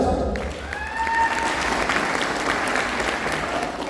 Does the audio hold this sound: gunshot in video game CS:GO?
no